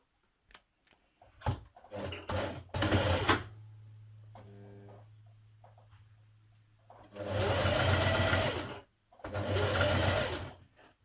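A domestic sewing machine runs in several bursts, stitching a 6mm seam along the top raw edge of a dress pocket, with short rattling starts and then two longer steady whirring runs close by.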